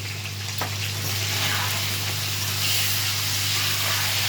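Eggplant curry ingredients frying in a pan, giving a continuous loud hiss and sizzle with little variation throughout.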